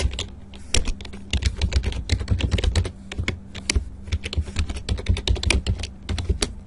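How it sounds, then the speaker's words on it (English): Rapid, steady typing on a computer keyboard while entering network administrator credentials, dense clicking keystrokes close to the mic throughout, with no talking. "We're going to click share, type in the credentials"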